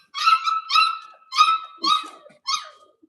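A Labradoodle puppy barks five times in a steady series of sharp, high yips, close and clear with short silences between them.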